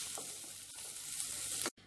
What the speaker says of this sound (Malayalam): എന്നിട്ട് ഒന്നുകൂടി ചെറുതായിട്ട് ഒരു 2 സെക്കൻഡ് വഴറ്റിയെടുക്കുക.